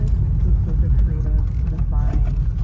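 Loud low engine rumble of a 1978 GMC Jimmy shifting through its transmission gears while driving, steady and close with slight pitch changes, a voice speaking over it.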